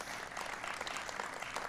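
An audience applauds during a livestream, a dense, steady burst of clapping heard at a moderate distance, alone and without talking.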